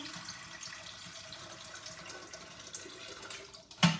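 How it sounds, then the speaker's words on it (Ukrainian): Water trickles and splashes from a tap or jug into a cooking pot of stuffed cabbage rolls, a soft steady pour ending in a brief louder clink near the close. "Зараз я долию водичку."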